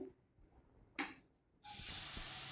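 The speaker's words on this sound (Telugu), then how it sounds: "సో చక్కగా అవి వేగుతూ ఉంటాయి కదా" Ingredients for a chicken omelette sizzling in about two tablespoons of hot oil, a loud steady frying hiss that starts after a brief burst and continues without pause.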